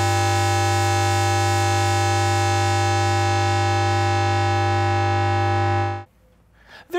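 Buchla Music Easel synthesizer producing a ring-modulated tone: a loud, steady, buzzy harmonic drone holding for about six seconds before cutting off abruptly, then near silence with a faint click.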